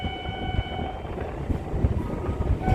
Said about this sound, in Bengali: আর একটি ক্ষণিকের মধ্যে কৃষ্ণনগর সিটি জংশন রেলওয়ে স্টেশনে ট্রেন প্রবেশ করবে